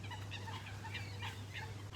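A turkey gobbles in a rapid, warbling series of calls over a steady low hum, moderately close.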